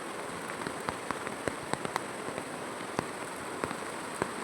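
Heavy rain falls steadily with a dense, even hiss, and sharp individual drop impacts tick out irregularly against a nearby surface, with no voices.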